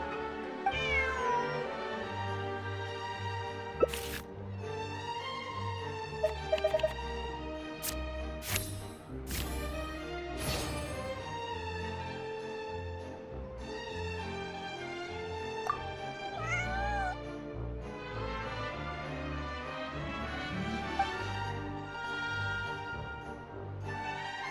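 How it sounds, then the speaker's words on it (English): Cat meowing in Genshin Impact, repeated mewing calls rising over a steady game soundscape with background music, several separate meows spread across the whole passage. "This is my friend's cat."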